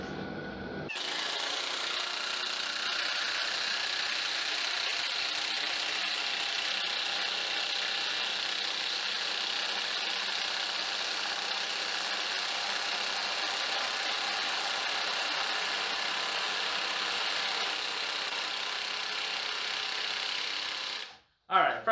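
A cordless high-torque impact wrench, either a Kobalt 24V XTR or a Ridgid 18V Octane, runs in one loud, continuous, high-pitched hammering whine for about twenty seconds close by, then cuts off abruptly.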